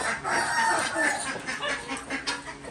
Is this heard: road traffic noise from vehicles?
no